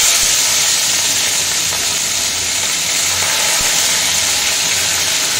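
Vegetables fry in hot mustard oil for a chowmein dish, giving a loud, close, continuous sizzle and hiss with no talk.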